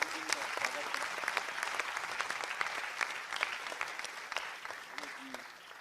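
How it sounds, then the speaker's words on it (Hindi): An audience applauds a birthday at Kailash Kher's celebration event, a steady mass of clapping across the whole stretch, fairly soft and distant with a few sharper individual claps near the front. "एक तालियों से उनकी जन्मदिन का स्वागत करें।"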